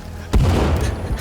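A single loud gunshot boom from a video game hits sharply and decays with a rumbling tail, followed by a fainter later report.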